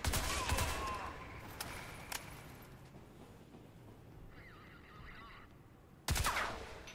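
Crysis 2 video game gunfire: loud, rapid automatic bursts open the moment, sparse quieter shots and a faint electronic warble follow, then another sharp burst of fire erupts at the end.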